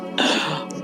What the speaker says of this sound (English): I'll start coughing.